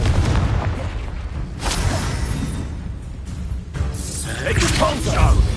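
Confringo spell blasts in the Hogwarts Legacy video game, several booming bursts with whooshing tails over a rumbling battle bed, loud and layered with other effects.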